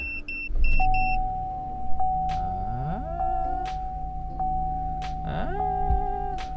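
Repeated electronic warning beeps from a car's tire pressure monitoring system on an older, well-worn vehicle, close and clear over a steady idling engine hum with tonal chimes rising and falling.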